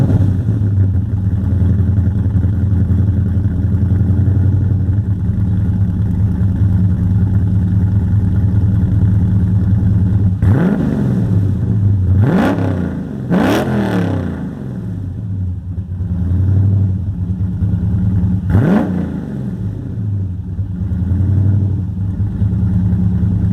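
A twin-charged 2005 Dodge Magnum with a Hellcat-style engine idles with a loud, deep rumble, then is blipped in several sharp revs that rise and fall quickly before settling back to idle.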